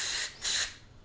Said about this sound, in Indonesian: Ini semprot juga, meskipun lubangnya kelihatannya gede, semprot aja nggak ada salahnya.